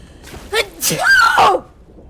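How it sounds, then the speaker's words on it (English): A single loud, explosive sneeze up close, with a sharp intake of breath before it and a voiced burst after. "shotgun sneeze strikes again"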